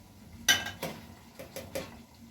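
A spoon adding tomato paste to a cooking pot for beef biryani makes a few quiet, close metallic clinks and taps, spaced irregularly, with no speech.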